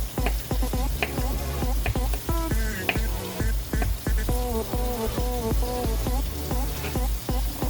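A steady sizzle of food sautéing in a big pan during low-carb, no-sugar meal prep, running underneath rhythmic plucked musical tones that dominate the mix.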